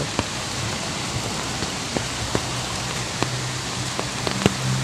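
Steady rain falls at Masapang Bridge in Victoria, Laguna, during a fishing outing, a dense even hiss with scattered close drops tapping sharply on a surface, no one speaking.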